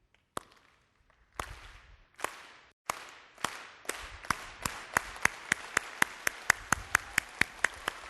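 Audience at a state FFA convention clapping in unison, sharp single claps at first spaced apart, then speeding into a steady, faster rhythmic beat, crisp and fairly distant.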